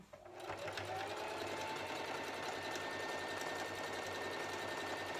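A sewing machine runs steadily, stitching fabric for a homemade mask near a seam, with a continuous whirring motor hum held at a constant loud level throughout and no talk over it.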